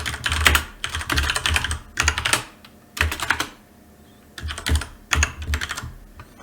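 Code being typed on a computer keyboard in a code editor, close rapid bursts of key clicks separated by short pauses, about five distinct flurries of keystrokes with no talking.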